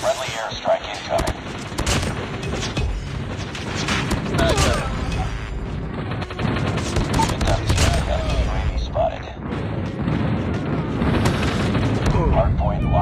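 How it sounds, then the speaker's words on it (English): A friendly airstrike pounds a hardpoint match in a video game, with rapid explosions and heavy gunfire layered into a dense, sustained roar, punctuated by sharper bursts and a voice speaking underneath. "Friendly airstrike incoming."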